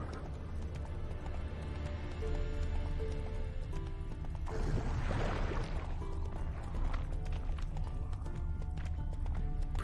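Roach, a horse in The Witcher 3 video game, gallops with steady hoof clip-clops over a dense, continuous game soundscape, and a burst of rushing noise swells midway through.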